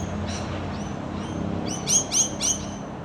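A rainbow lorikeet in a Perth suburb gives a few shrill, high chirps, the last three sharp and clustered together, over a low steady background hum.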